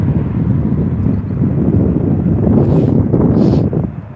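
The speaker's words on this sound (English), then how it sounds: "because the wind's right in my face." Strong wind buffets a phone microphone outdoors at Newcastle Airport, a loud continuous low rumble with gusting surges, close and alone with no voices.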